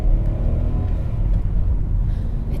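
A Ford Ka+ Active's engine drones and strains while driving, a low, steady rumble with a hint of revving that holds through the whole short stretch.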